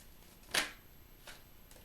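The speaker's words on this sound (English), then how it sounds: "You know what, I'm going to shuffle. I want to shuffle a little bit more." Tarot cards being shuffled, one sharp close riffle followed by a softer second riffle, quiet otherwise.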